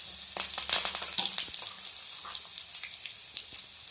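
Curry leaves hit hot oil already holding cumin and ginger-garlic paste, setting off a loud burst of crackling, spitting sizzle that gradually settles into a softer, steady fry.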